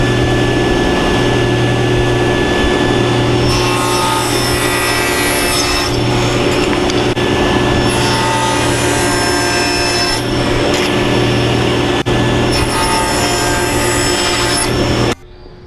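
Half-inch-thick wood box pieces are sawn apart in a close, loud, steady run of scraping strokes. It goes on without pause and then stops abruptly at the end.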